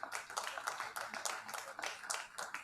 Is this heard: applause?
yes